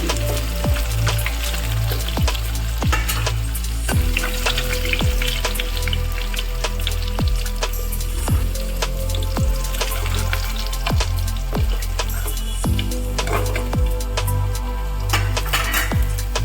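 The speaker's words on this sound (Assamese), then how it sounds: "আটাইখিনি এনেদৰে ভাজি ল'ম।" Fish frying in hot oil gives a loud, steady crackle and spatter, with repeated light clinks of a utensil against the pan and no talk.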